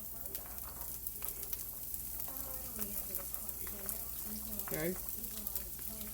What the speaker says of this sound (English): I'm getting ready to just saute that all up.